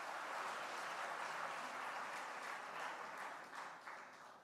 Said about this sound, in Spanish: ahora sí un aplauso final para todos ellos